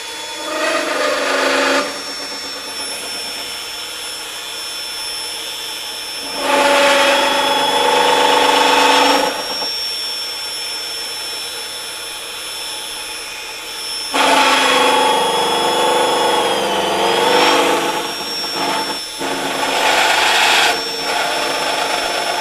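A FEIN Slugger MagForce 90 magnetic drill chamfers holes in metal, giving four loud bursts of whining, grinding motor noise with steady high tones, separated by a quieter running hum.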